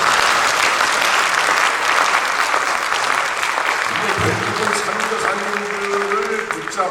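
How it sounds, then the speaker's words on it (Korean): A church congregation gives missionaries a dense, sustained round of applause, loud and continuous throughout, with a low murmur of voices mixing in toward the end. "우리 선교사님들께 박수 한번 크게 보내드리십니다."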